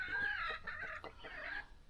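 Hens cluck in a quiet yard, a few soft broken calls and short clucks in quick succession, fairly faint with no talking.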